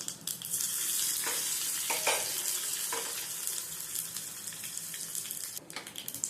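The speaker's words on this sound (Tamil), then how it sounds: "ரெண்டு காஞ்ச மிளகா கொஞ்சம் பூண்டு போட்டுக்கலாம்" Dried red chillies and garlic fry in hot oil with cumin for a mookirattai keerai kadaiyal, giving a loud, steady sizzle with crackling pops up close.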